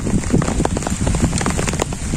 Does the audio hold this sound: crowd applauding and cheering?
no